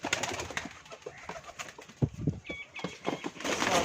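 Pigeons, white-winged birds with dark markings, coo in a soft rumbling series close by, mixed with rustling and other bird sounds.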